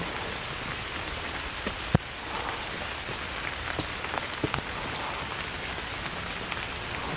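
Heavy rain pours down outdoors as a dense, even hiss, with scattered close drop taps and one sharp knock near the start, no voices.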